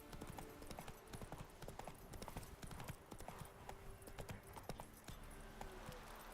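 Roach the horse gallops in The Witcher 3, hooves clip-clopping in a steady rapid rhythm, close and continuous under game ambience, with a brief whinny-like sound.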